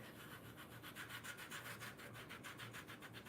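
Rapid, steady back-and-forth rubbing on a plastic decor piece to remove paint specks, a faint rhythmic scrubbing with no talk.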